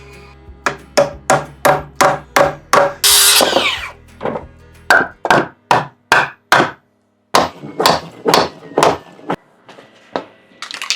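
A nail being hammered into wood on a house exterior, a loud, close run of evenly spaced sharp strikes, a brief harsh scraping burst, then more steady blows in a second and third series.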